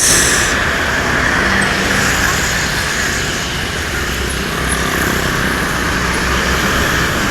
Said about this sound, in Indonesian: Ini ada kedatangan bus Sumbar ya, ada NPM Sultan Class.